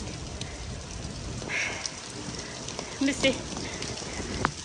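Heavy rain falls steadily beside Brunnensee lake, a dense hiss of drops with a few louder nearby patters, while a voice speaks briefly.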